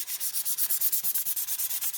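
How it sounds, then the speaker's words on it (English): Sandpaper rubbed back and forth over a bike frame being prepped for spray paint, a steady rhythmic scratching of about a dozen quick strokes, close and loud, with no voices. "I've just started sanding this down literally 2 minutes ago"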